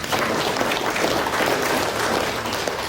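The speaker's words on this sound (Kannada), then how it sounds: "ಚಪ್ಪಾಳೆ." An audience at a literary society's anniversary gathering applauds in a dense, steady clatter of clapping that fills the whole stretch, with no speech over it.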